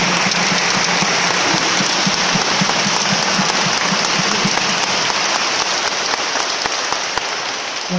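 Congregation applauding the Virgin of Toyahua during a Catholic mass in Nochistlán, Zacatecas: dense, sustained clapping from a large crowd fills the space steadily for the whole stretch, with a brief voice underneath early on.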